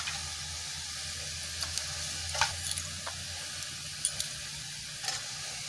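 Shrimp frying in a pan with ground spice paste, a faint, steady sizzle with a few soft clinks and taps of a utensil, no voices.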